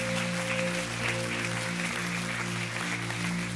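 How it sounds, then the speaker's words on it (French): A church congregation applauds in a steady, sustained wash of clapping, with sustained organ-like musical tones running underneath throughout. "que ceux qui le croient disent Amen et applaudissent bien fort,"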